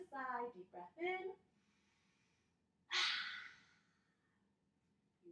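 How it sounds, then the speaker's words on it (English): A child's deep, audible breath in during a dragon yoga pose follows a few short spoken words, breathy and close, then fades into quiet. "take a deep breath in"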